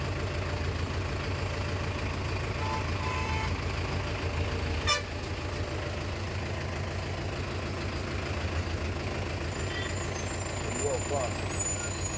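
Lorries descending the Thoppur ghat road, heavy truck engines droning close and continuous with a brief air-brake hiss and horn toots, while people talk over the traffic.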